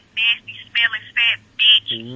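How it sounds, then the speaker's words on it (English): A phone rings during a night shift at a gas station in a video game. Four loud, clear electronic ring bursts come in an even rhythm, and a voice starts low at the very end. "Somebody calling my phone."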